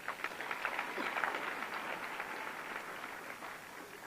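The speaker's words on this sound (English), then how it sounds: "May we give Mr. President another round of applause." Audience applause for Botswana's President Duma Boko at a technical and vocational education event, a faint, steady wash of clapping that fades slightly toward the end.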